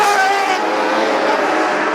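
Compact speedcars roar past on a dirt speedway oval during an Australian title A-main, the engines loud and close with a sweeping pass that fades slightly as the cars move on.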